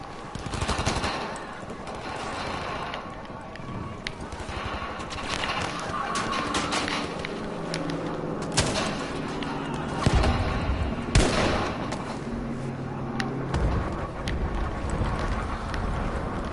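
Heavy, sustained gunfire in the World War II shooter Battlefield V: rapid machine-gun bursts and sharp single shots crackle continuously at close range, with a few louder cracks standing out and no talk over them.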